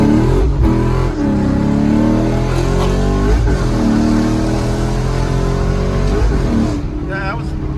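A Ford Mustang with a race setup accelerating hard on the road, a loud, close engine roar climbing through the revs with brief dips at the gear shifts, while people talk over it.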